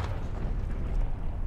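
A Civil War–era artillery cannon fires in War of Rights, a single low, rolling boom that sustains as a heavy rumble throughout, loud and close with no talk.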